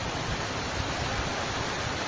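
A waterfall pours in a steady, unbroken hiss of rushing water, fairly soft and even, with no voices.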